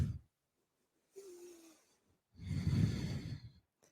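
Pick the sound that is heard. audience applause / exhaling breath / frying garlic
exhaling breath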